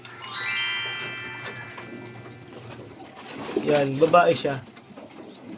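Pigeons kept by a fancier coo softly in a loft, low rolling calls that swell near the end, with higher chirps early on and a person talking over them.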